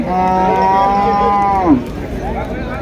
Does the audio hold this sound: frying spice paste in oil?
no